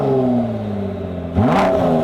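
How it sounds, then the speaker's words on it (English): Ford GT EcoBoost V6 with a titanium Akrapovic exhaust idling loudly up close, then a quick throttle blip that sweeps the engine note sharply upward before settling again. "we're gonna start it up, show you what it sounds like with the Akrapovic system"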